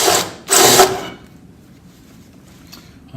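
Power drill boring through the door jamb of a 1966 Chevelle, two short loud whirring bursts close by, followed by quiet background noise.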